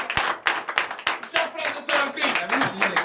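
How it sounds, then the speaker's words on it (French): A church congregation at a morning prayer service claps in response, with a few crisp separate claps giving way to mixed clapping under a voice speaking over it. "Je vous demande d'applaudir"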